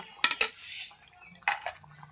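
A metal lid set onto a pot of simmering amudi fish curry gives two sharp clanks close together, with a softer clatter of the lid settling about a second later, then quiet.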